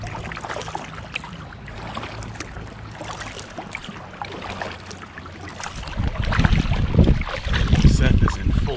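A kayak is paddled along the Susquehanna River North Branch, with water splashing and swishing under steady wind noise, growing louder and rougher toward the end as the boat passes through a patch of current.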